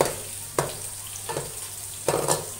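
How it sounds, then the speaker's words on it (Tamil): Egg frying in a pan over a medium flame while making chicken fried rice: a steady sizzle broken by a few scraping stirring strokes, close up and without talk. "அதனால தான் நான் மீடியம் ஃப்ளேம்லேயே வச்சு பொறிக்கிறேன்"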